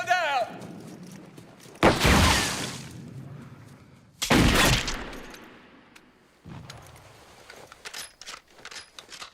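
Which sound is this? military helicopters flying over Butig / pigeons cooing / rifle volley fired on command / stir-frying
rifle volley fired on command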